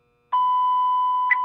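Electronic time-signal beeps marking 9 a.m. in a Keikyu Main Line train simulator: a steady sustained tone with a brighter beep pulse near the end, clear and alone.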